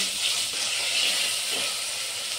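Raw green peas sautéed with salt in a hot pan for soybean pulao, giving a continuous loud close sizzle and hiss with no talk.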